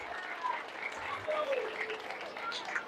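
Applause from a crowd at an Islamic school graduation gathering with a comic sermon, brief clapping mixed with voices and cheering, moderately loud throughout.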